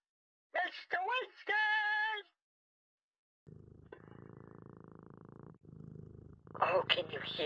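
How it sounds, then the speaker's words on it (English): A pet cat purrs in a low, steady rumble held for a few seconds, alone after brief speech, then fading into more talk. "Is he purring?"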